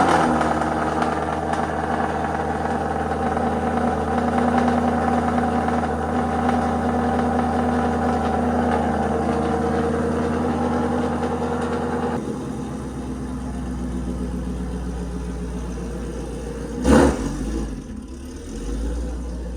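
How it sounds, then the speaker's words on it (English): Ford Mustang GT 5.0 with an aftermarket exhaust idling loud and close after a cold start, a deep steady rumble that drops to a lower idle partway through, then a brief sharp blip near the end. "I'm going to give you guys a nice little cold start"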